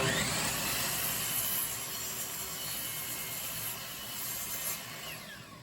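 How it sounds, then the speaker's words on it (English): A miter saw slices through the end of a wooden board, a loud continuous cut lasting several seconds that eases slightly toward the end, with no talking. "stop is the miter saw, not only to lop off the unused portion, but the one end needs to be a nice straight cut"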